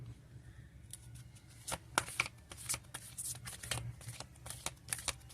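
Oracle cards shuffled by hand during a pick-a-card reading, a run of soft riffling flicks and sharp card snaps in an uneven rhythm, close and fairly quiet over a low steady hum, with no talking.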